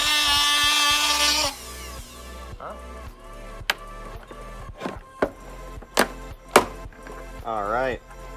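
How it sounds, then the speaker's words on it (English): A power tool cuts a hole in a Subaru's factory fog light shroud. A loud, close, high whine runs for about a second and a half and then stops. Sharp plastic clicks, knocks and a brief buzzing follow. "We're gonna cut a hole in the factory fog light shroud, feed the hose through that"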